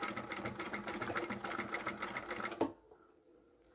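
A sewing machine stitches across the end of a zipper with a steady, rapid mechanical rattle for a few seconds before it stops abruptly, leaving only faint room noise.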